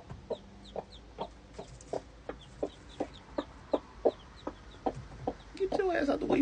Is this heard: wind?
no